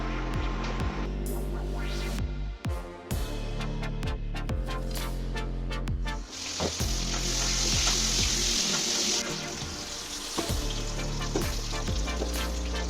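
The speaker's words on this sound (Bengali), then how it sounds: "তেলটা গরম হলে আলুগুলো ভেজে নিয়ে তারপরে আস্তে আস্তে রান্নার দিকে ঢুকবো।" Potatoes frying in hot oil in a home kitchen, a loud, continuous sizzle close by with scraping and stirring clatter from a utensil, rising into a brighter hiss partway through.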